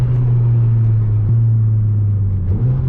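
Honda Civic Type R FK8 with a damaged downpipe and blown-out catalytic converter, driving with a steady, loud, low engine drone heard close from inside the car.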